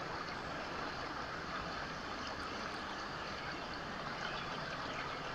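A river flows steadily at a Welsh homestead, a faint, even rush of water with no breaks and no voices.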